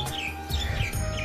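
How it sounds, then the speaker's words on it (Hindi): Birds chirp near farm fields in a rural Indian setting, a quick burst of several overlapping tweets and short calls at moderate distance, with no talking. "पक्षियों की चहचहाने की आवाज़ काफ़ी आ रही है"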